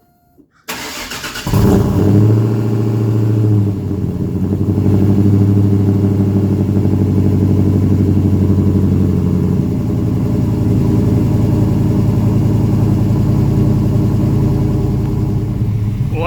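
A 1999 Chevrolet Silverado with a big cam cold-starts on a cool morning, a brief crank catching into a loud, steady, lopey idle close by that runs on without talk.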